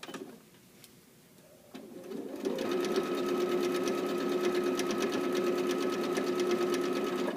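A sewing machine stitches a waistband casing, starting after a few quiet seconds with faint clicks, then running in a fast, steady, close mechanical rhythm to the end.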